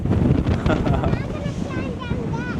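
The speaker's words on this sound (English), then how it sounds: "Oh my gosh, it is very windy." Loud, constant wind buffets the microphone in rough gusts on a road trip through Wyoming and South Dakota, with faint voice-like tones drifting in during the second half.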